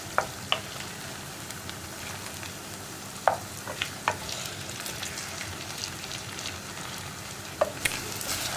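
Tapioca (kappa) pieces frying in hot oil for chilli tapioca make a continuous dense sizzle broken by occasional sharp pops and crackles.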